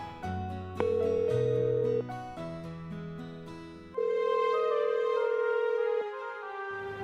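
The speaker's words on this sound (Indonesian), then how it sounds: "Ada telepon" A phone rings with an electronic melodic ringtone, sustained notes stepping between pitches, clear and steady with no talking.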